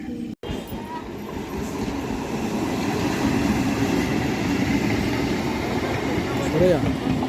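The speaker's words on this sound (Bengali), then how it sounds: "তো যাই হোক, ট্রু ট্রেনটা চলে যাচ্ছে।" A through train rolls past at Bhadreswar station on the Howrah–Bandel line, a loud, steady rumble of wheels and carriages that lasts the whole stretch.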